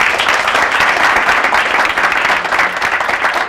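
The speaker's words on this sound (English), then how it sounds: "Let's give John a big round of applause." A loud, dense burst of audience applause for a speaker at an event, many hands clapping steadily and close without a break.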